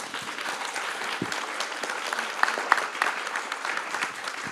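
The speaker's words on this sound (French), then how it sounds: "je crois qu'on peut vraiment les applaudir" Steady applause from a conference audience after a talk on cancer treatment and AI, dense clapping throughout with a few sharper individual claps standing out.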